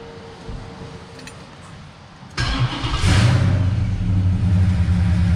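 A 1968 Dodge Charger with a swapped 5.7 Hemi and a new 3-inch TTI exhaust with X-pipe cranks over from a low background hum, then fires into a loud, deep, steady rumble close by.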